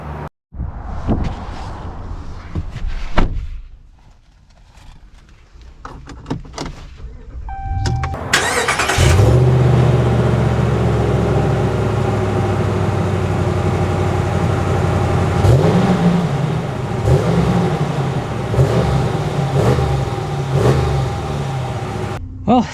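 A 2024 Ram 1500 Classic pickup with the Hemi V8 starts up and pulls away, its engine note loud and steady with rising and falling revs after a few seconds of quiet handling noises.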